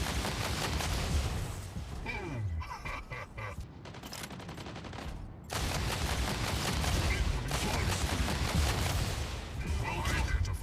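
Paired Missile Rack 16 weapons fire in the mech combat game Mech Arena, a dense crackling barrage of rapid launches and blasts with a brief lull midway before the volley resumes, loud and close.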